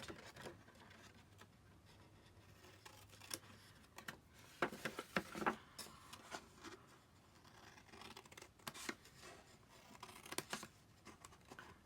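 Scissors snip paper away from a small corner rectangle during a Stampin' Up T-shirt bag craft, giving quiet close crisp cuts and rustles in irregular bursts with no voices.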